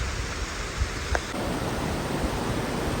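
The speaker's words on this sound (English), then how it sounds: "There's a waterfall coming down." Waterfall pouring down into a mountain lake in the Mammoth Lakes basin in September: a steady, broad rushing roar, close and continuous, with no voices.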